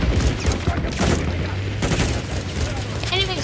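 Gunfire crackles in a Call of Duty MW3 zombies match, dense bursts of shots and booms layered under a player's talk, with a synthetic tone near the end.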